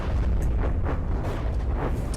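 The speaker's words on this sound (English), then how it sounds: "Oh, torpedo hits." Torpedo hits exploding in the video game From the Depths, a dense continuous rumble of deep booms and blasts, loud and sustained with overlapping impacts.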